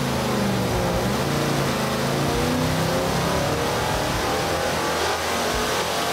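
A junkyard supercharged Ford 390 FE V8 on an engine dyno, running with a damaged piston ring land, roars loud and steady under load before the note begins to break up toward the end.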